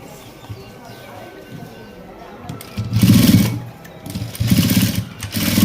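A sewing machine stitches piping onto a blouse edge, running in two loud bursts in the second half after a quieter stretch, with a brief pause between runs.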